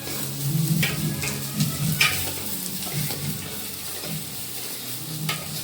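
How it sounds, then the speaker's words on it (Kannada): Onions fry in oil in a pan while being stirred, giving a steady sizzle broken by scraping and clinking from the spoon, close and fairly loud, with no talk. "ಏನಿಲ್ಲ, ಸ್ವಲ್ಪ ಸ್ಟಿರ್ ಮಾಡಬೇಕು. ಒಂದು ಡಿಶ್ ಬ್ರೌನ್ ಬರಬೇಕು, ಗೋಲ್ಡನ್ ಬ್ರೌನ್."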